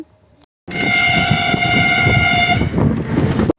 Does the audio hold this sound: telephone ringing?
no